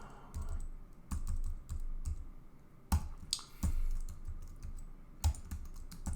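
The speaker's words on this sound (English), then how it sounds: "why aren't you just copying and pasting instead of typing the same words again and again?" Typing on a computer keyboard, with steady bursts of close key clicks and a few heavier keystrokes, fairly loud and without any talking.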